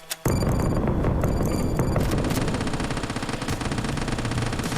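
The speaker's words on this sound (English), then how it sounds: "drop a bomb on it" An airstrike in the zombie game Quarantine Zone sets off a sudden loud blast after a brief quiet moment, then a dense, sustained roar of explosions and rapid gunfire-like crackle continues without pause.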